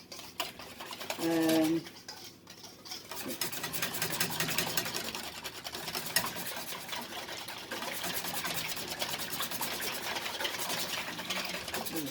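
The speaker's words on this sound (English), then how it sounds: "we're going to keep whisking it together as well as we can" Continuous rapid whisking of ingredients in a bowl for sweet potato cakes, a busy rhythmic scraping and clatter close up, with brief talk near the start.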